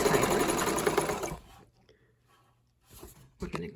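Vintage Dressmaker S-2402 sewing machine stitching at a short, tight stitch length, a dense, steady mechanical whir for the first second and a half, then it stops and a little quiet handling noise follows.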